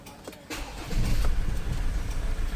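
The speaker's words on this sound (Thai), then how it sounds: "เดี๋ยวเราลองสตาร์ทเครื่องให้ดูก่อนนะครับ" A car engine, repaired after an O-ring fault, cranks briefly, then catches and settles into a steady, close low rumble that continues to the end.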